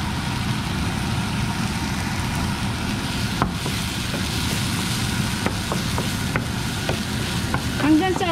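Chopped tomato frying in a hot pan for breakfast, a steady loud sizzle throughout with scattered scraping clicks of a utensil stirring, growing busier toward the end.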